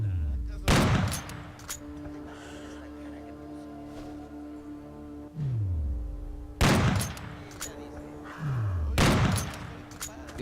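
Bursts of automatic gunfire from a shooting video game, loud rapid volleys separated by pauses, with falling electronic tones and a steady game soundtrack hum underneath.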